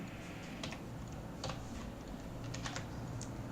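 Computer keyboard typing as PHP code is written: quiet scattered key clicks at an uneven pace over a low background hum.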